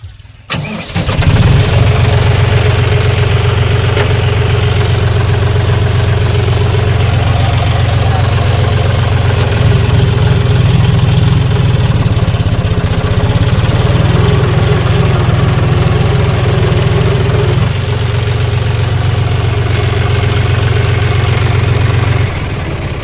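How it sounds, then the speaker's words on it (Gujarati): A farm tractor's engine starts and then runs steadily at a loud, close idle while the tractor is moved forward, with a continuous low rumble and no talk. "પાછું પેલું ટ્રેક્ટર સ્ટાર્ટ થયું છે."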